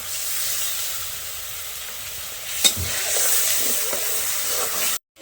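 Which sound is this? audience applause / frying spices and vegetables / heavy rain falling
frying spices and vegetables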